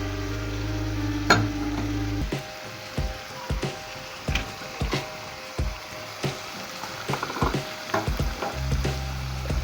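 Minced meat with tomatoes and garlic frying in a pan, giving a steady low sizzle with repeated clinks and scrapes of a spoon stirring against the pan, close and moderately loud, with no talking.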